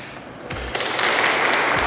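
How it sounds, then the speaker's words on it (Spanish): Applause from a group of soldiers gathered downstairs in a military museum in Kazakhstan, heard from a distance as a steady, dense patter with a few louder thuds, with no talk over it. "esto que escucháis ahora aplaudiendo, hay un montón de militares abajo haciéndose fotos"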